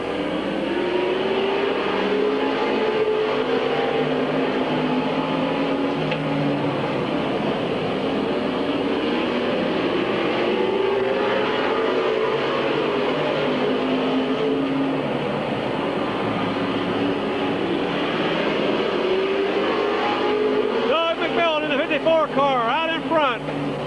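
Race cars at Midvale Speedway in 1997 roar steadily as the pack circles the track, engine tones rising and falling as cars pass, with a race announcer talking over the continuous engine noise throughout.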